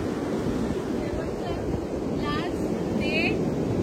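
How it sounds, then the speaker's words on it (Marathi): Ocean waves at Gavkhadi beach in Ratnagiri, a steady broad wash of surf with wind buffeting the microphone, continuous and fairly close. "शेवटचं बघून घ्या समुद्र."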